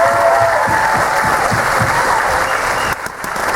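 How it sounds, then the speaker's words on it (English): Audience applause at a hypnosis show aboard a Carnival cruise ship: a sustained wash of clapping from a large crowd, loud and steady throughout, dipping slightly near the end. "Give them a massive round of applause"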